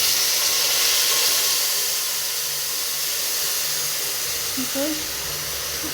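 A paste of onion, ginger, garlic and chili, added over cumin seeds in a hot pan, gives off a loud, steady steamy hiss that slowly fades slightly; no one talks.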